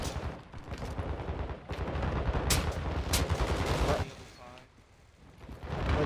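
Video game gunfire in DMZ, bursts of shots crackling at moderate loudness from an unseen direction, with a voice talking over part of the exchange.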